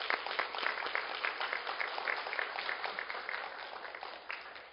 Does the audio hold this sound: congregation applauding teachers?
yes